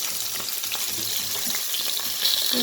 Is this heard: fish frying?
yes